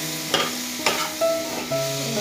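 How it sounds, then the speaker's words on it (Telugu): Onions, green chillies, ginger and cinnamon fry in a pan with a close, crackling sizzle, broken by a few sharp scraping stirs and clinks of a utensil, loud and alone. "చిన్న అల్లం ముక్క, చిన్న దాల్చిన చెక్క, అన్నీ కూడా ఫ్రై చేసుకొని"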